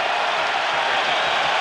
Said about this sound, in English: Carolina crowd coming alive now.